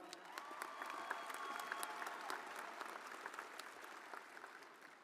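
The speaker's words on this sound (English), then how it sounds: "Could we get another round of applause for Diego?" Steady applause from a large audience at a high school graduation commencement, dense continuous clapping filling the hall at a moderate distance without any speech.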